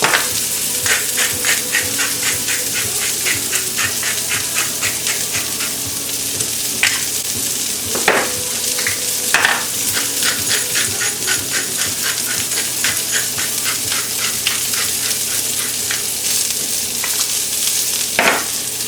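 Food for a fall pasta salad, laid flat and seasoned with salt and pepper, sizzles loudly in a pan, a constant close crackle with a few sharp metallic clinks and scrapes from stirring, no voices.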